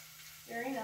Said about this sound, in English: Wow, you can hear the sizzle, it's already hot.